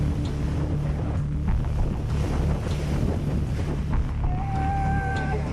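Hurricane wind gusts roar continuously and loudly, buffeting the microphone with dense, steady rumble and hiss throughout, a faint whistling tone emerging near the end; no voices.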